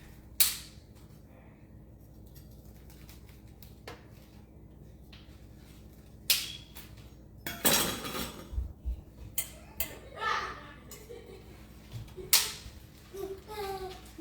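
A knife slices vegan quesadillas into thirds on a board, producing scattered sharp clicks and taps against the surface, with a louder rustling, scraping burst midway, all close and fairly quiet.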